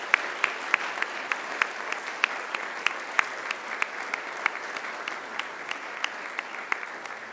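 A graduation ceremony audience at Macquarie applauds with steady, fairly sparse clapping. Individual sharp claps repeat evenly for several seconds at moderate distance, with no talking over them.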